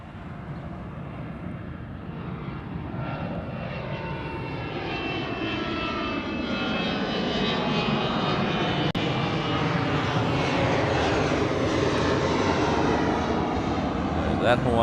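A Hawaiian Airlines plane departs Honolulu airport bound for Kailua-Kona, its engine roar building steadily from moderate to loud and sweeping in pitch as it passes, with someone talking over it.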